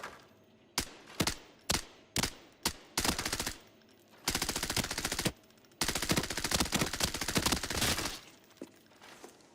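Gunfire in the shooter game Arena Breakout Infinite, starting as a string of sharp single shots, then breaking into two long, loud automatic bursts with a short pause between them, close and crisp with no talking.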